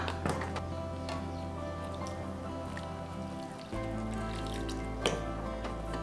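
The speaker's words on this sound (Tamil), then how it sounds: "வெள்ளம் கரைச்சி வச்சதை சேர்த்திக்கலாம்" Dissolved jaggery is poured into simmering finger millet porridge, giving soft liquid drips and squishy splashes over a low steady hum, with no voices.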